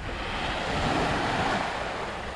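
Ocean waves at Devgad beach in Maharashtra make a continuous, even surf roar with a faint wind rush. It is steady and moderately loud, with no voices.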